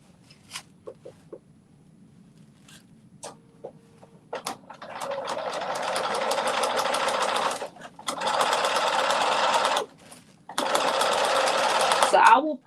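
A sewing machine stitches a garment together in three steady runs of several seconds each, separated by short pauses, after quiet handling clicks at the start.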